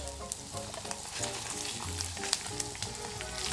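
A piece of seasoned meat fries fat side down in a hot pan, giving a continuous close sizzle with small crackles and pops throughout.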